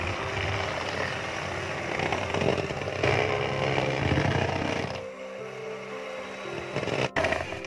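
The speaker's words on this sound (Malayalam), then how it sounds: "ഇനി ഒന്നുകൂടി ബീറ്റ് ചെയ്തെടുക്കാം." Electric mixer beats plum cake batter with eggs, giving a loud, steady motor whir that drops in pitch and sputters toward the end, with no talking.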